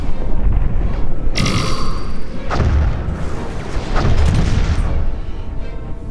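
Torpedoes launch and detonate during a space battle in the Master of Orion strategy game, a loud sequence of deep booms and crackling blasts with a sharp high-pitched firing burst near the start.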